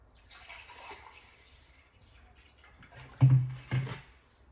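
White vinegar for a pickling brine pours into a measuring cup in two short splashing bursts near the end, after a quiet stretch of faint kitchen background.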